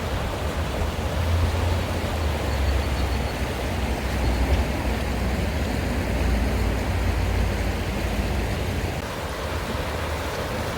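A creek flows with a steady, even rush that fills the whole clip, a continuous broadband wash with no voices.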